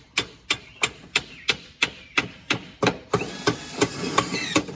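Metal roofing on a mobile home is tapped down with sharp hammer blows, about a dozen evenly spaced strikes at a steady rhythm, clear and close, with faint background noise rising toward the end.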